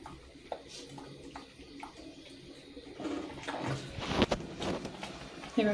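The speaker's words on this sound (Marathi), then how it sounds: "हे बघा चांगले खळखळा उकळी येऊन द्यायची त्याला" Water mixed with mango juice boiling vigorously in a pan, a bubbling, splashing churn that grows louder and busier partway through, with occasional knocks and no talking.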